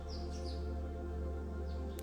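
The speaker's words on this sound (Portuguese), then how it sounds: "Os passarinhos também já chegaram aqui." Small birds chirp outdoors in the morning, a few faint high tweets scattered over a constant low background hum, with no voices.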